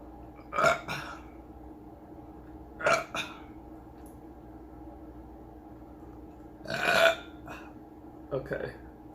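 Several loud, drawn-out burps after drinking Sprite during a banana and Sprite challenge, four separate belches spaced across the clip, some followed by short throaty trailing bursts, close to the microphone.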